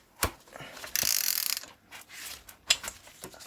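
Loosening a tight Allen bolt on a mountain bike crankset, with sharp creaks and clicks from the tool and a sustained grinding rasp lasting about half a second, followed by several more scattered ticks.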